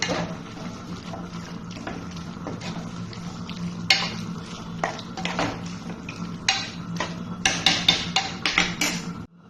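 Goat tripe and meat are stirred in a pan over a low, continuous sizzle. Repeated scraping and clattering strokes from the spoon grow quicker and more pronounced toward the end. No one speaks.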